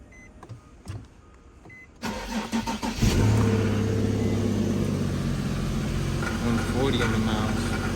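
A Mercedes-Benz G-Wagon, boosted by a jump box, cranks briefly and catches, its engine firing up and settling into a loud, steady idle close by, with a few clicks and faint talk before it turns over.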